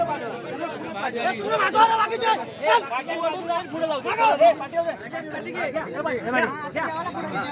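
Dense, steady crowd chatter at a bullock cart race in Devrukh, many voices overlapping into a loud babble that runs throughout, with no single voice standing out.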